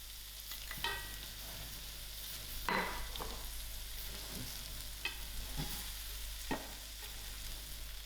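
Cauliflower and paneer fry in spices in a hot pan, making a quiet steady sizzle broken by several distinct stirring scrapes and clatters of a spoon, with no talking.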